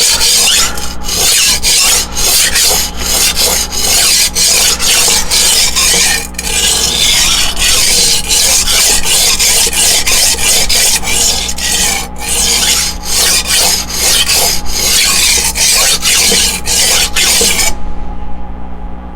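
A knife is sharpened on a Hapstone T1 sharpener with a little oil on the stone, giving a loud, steady rasping scrape of strokes back and forth for about eighteen seconds, close up and without talk, before stopping abruptly.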